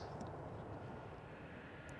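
A Boeing 737 lining up on the runway at Amsterdam Schiphol Airport, its engines a steady distant roar that stays even and unbroken throughout.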